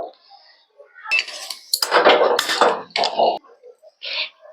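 Metal cookware clanks and clatters as a pot of milk is set onto a gas stove burner, with several sharp knocks and scrapes in quick succession, then a final light clink.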